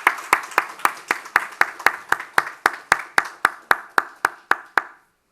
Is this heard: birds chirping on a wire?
no